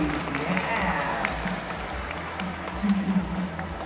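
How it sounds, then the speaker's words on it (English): Audience applause at a stage show, steady clapping from a crowd that swells slightly toward the end, with voices talking over it. "How about a round of applause for all that waiting up on stage?"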